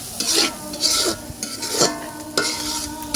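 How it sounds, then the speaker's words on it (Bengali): Small shing fish stir-fried in a pan with pointed gourd, each scrape of the spatula bringing a bright rasping sizzle in a regular rhythm of about four strokes, close and fairly loud with no talking. "এখন আমি মাছগুলোকে ভালোভাবে কষিয়ে নেব"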